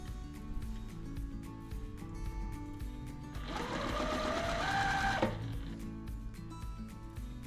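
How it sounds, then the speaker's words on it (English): A sewing machine stitches quilt pieces together in a single steady run of about two seconds, a close, even whirring hum that rises and then stops, surrounded by quiet room background. "we're going to take it to the machine and we are going to sew a 1/4 inch down the whole side"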